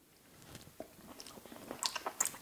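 Someone tasting a shiny, oil-dressed dish chews close to the mic, giving soft wet bites and small crunches that grow busier toward the end, with no talking.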